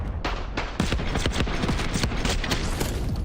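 Rapid bursts of gunfire, pistol shots among them, in a Call of Duty Black Ops 6 esports match, crackling densely and loudly for several seconds with no voices over it.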